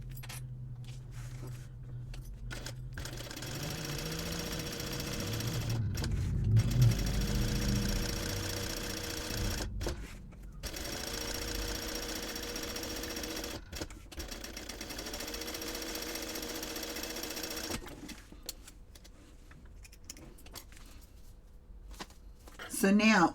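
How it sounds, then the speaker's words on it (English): A sewing machine bastes two purse panels together, running in several long stitching bursts broken by brief pauses, with a low motor hum and a faint rattle. "baste the exterior with 1/8 inch seam allowance so they become one"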